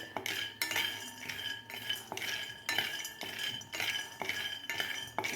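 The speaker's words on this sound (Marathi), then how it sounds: "शेंगदाणे आपल्याला व्यवस्थित मिडियम गॅसवर चांगले असे खरपूस भाजून घ्यायचे आहेत" Peanuts dry-roasting in a kadhai over medium heat, stirred with a metal spatula that scrapes and clinks against the pan in repeated strokes, close and steady with no talk.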